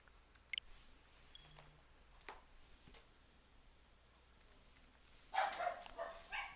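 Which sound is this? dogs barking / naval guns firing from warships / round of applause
dogs barking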